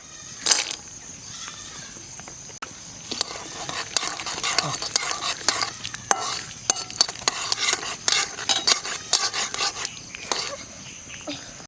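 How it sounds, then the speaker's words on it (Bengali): Nuts fry in a pan with bay leaf, cardamom and cloves while a utensil scrapes and clatters against the pan in repeated sharp strokes, loud and close. "তেজপাতা এলাচ লবঙ্গ দিয়ে দেবো বাদাম দিয়ে দেবো"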